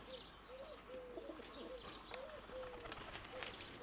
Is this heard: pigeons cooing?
yes